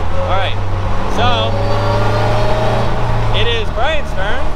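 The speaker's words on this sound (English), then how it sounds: "you hear more wind, obviously. You hear more engine." A Polaris Slingshot three-wheeler's engine drones steadily while driving, with wind rush filling the background and people talking over it now and then.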